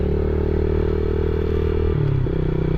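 Motorcycle engine on a dirt track near Chinchilla, Queensland, holding a loud steady drone before shifting up a gear, the pitch dropping and climbing again, close and alone.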